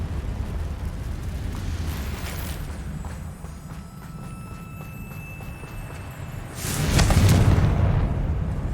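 A Confringo fire spell in Hogwarts Legacy bursts as a loud, broad explosive whoosh that swells near the end, laid over a steady ambient game rumble.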